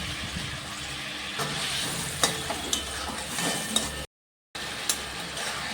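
Chicken balls sizzling in a hot pan with turmeric, sugar and garam masala. A loud, steady frying hiss is broken by occasional sharp clicks from stirring, with a brief silent gap near the end.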